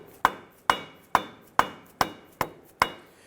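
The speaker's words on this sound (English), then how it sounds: "I'm going to go ahead and start to tap this using our mallet" Rubber or dead-blow mallet tapping a rear axle shaft into place on a 2006-2010 Hummer H3 during axle seal replacement: seven sharp, evenly spaced knocks about half a second apart, close and clear with no talk.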